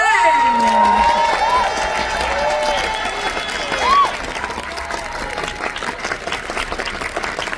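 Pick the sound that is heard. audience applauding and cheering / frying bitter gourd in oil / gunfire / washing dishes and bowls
audience applauding and cheering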